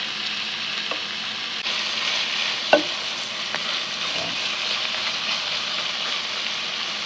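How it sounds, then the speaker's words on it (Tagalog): Chicken gizzards and liver sautéing in a pan, a steady close sizzle with occasional spatula scrapes and one sharper clatter, no talk. "igisa lang po natin"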